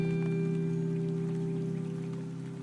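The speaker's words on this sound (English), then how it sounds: "And rain may fall." Steady rain patter falling in a video game, a continuous soft hiss over a low droning tone, fading slightly toward the end with no talking.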